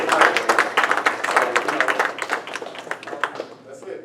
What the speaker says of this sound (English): give us a round of applause, give us a great hand